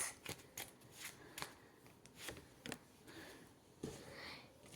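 Tarot cards shuffled close up in a quiet room, a run of crisp riffling bursts and soft slaps spaced irregularly, with no voices.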